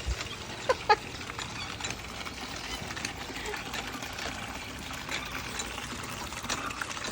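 Water pours and trickles steadily from a faucet into a drum in the background while people talk over it, with a few faint clucking sounds mixed in.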